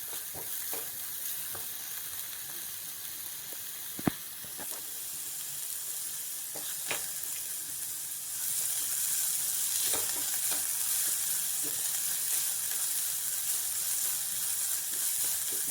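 Grated ginger sautéing in a pan for a veggie egg paniyaram snack, a steady close sizzle with a few sharp spatula clicks, the frying hiss growing louder and brighter in the second half.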